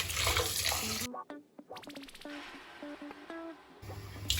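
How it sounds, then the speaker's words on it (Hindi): Rice rinsed in cold water in a bowl, swirled gently by hand for pulao: a steady splashing, running-water wash that drops away briefly in the middle, then returns close and full. "हिला के धोते रहें जब तक इनका ये पानी जो बिल्कुल सफ़ेद पानी नीचे से चावल नजर आए।"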